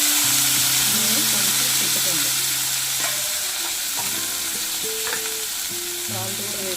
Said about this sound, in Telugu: తర్వాత టమాటా ముక్కలు వేసుకుంటున్నాను.